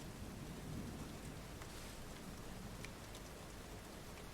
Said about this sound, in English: the sound of the storm is sort of fades almost completely behind you